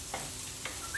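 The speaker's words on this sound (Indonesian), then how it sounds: "goreng dulu bawangnya supaya baunya nanti sedap ya" Onions frying in a pan and being stirred, giving a soft steady sizzle with a couple of brief scraping stirs, heard close and alone.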